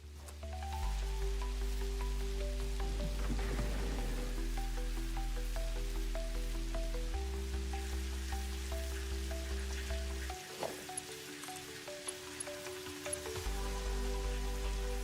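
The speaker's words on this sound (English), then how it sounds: "I can hear the rain here, but I can't see it." Steady rain falls in the video game Satisfactory, a soft continuous patter that sits under gentle, sustained game music for the whole stretch, with no one talking.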